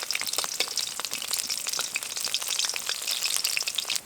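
Pointed gourd (kakrol) pieces fry in hot oil in a pan after being turned, giving a steady, close, bright sizzle with dense crackling pops throughout and no talk.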